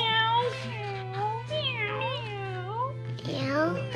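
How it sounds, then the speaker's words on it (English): A cat meows repeatedly in a home during a winter blizzard in Iowa, the wavering cries close and clear over a steady low hum, with a person speaking around them. "Oh, kitty cat."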